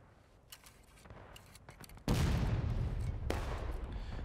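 Musket volley fire from a battle in War of Rights: scattered distant pops at first, then a sudden loud, crackling volley that rolls on continuously, with another sharp shot cutting through it.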